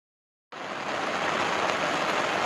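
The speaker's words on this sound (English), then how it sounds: "here's a beautiful day in the rain in the Mini-Mate" Rain falling on a Mini-Mate camper's awning with water running off, a soft hiss that starts abruptly after a half-second of silence and then continues as a steady, even wash of drops, moderately quiet.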